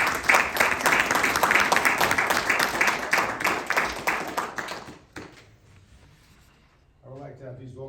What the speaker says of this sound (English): now everybody can applaud